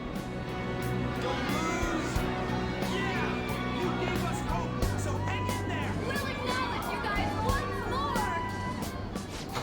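A crowd in Persona 5 Royal cheers and calls out as a dense, steady babble of many voices that keeps up throughout, with game speech over it.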